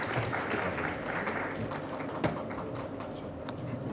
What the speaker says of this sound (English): Applause, please, ladies and gentlemen.